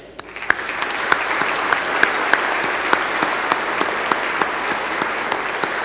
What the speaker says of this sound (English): Graduates, please thank them by clapping.